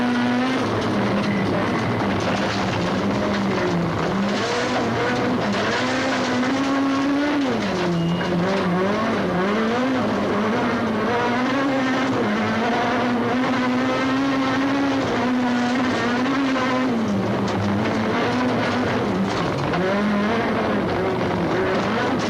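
Onboard a Toyota rally car at the 2004 Toyota Dealer Rally, the engine drones close and loud as it rises and falls through gears, with tire noise underneath and no talk, for the whole stretch.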